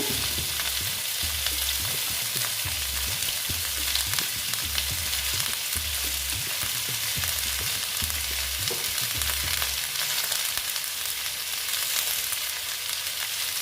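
Potatoes going into a frying pan of mixed vegetables for a vegetarian dish: a steady, dense sizzle of oil throughout, with soft low thumps and stirring near the start and middle.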